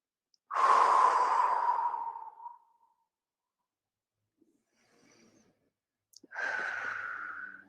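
Two long, deep breaths during a yoga hip-opening exercise, each a strong airy exhale with a quiet gap between them, close and with no talking.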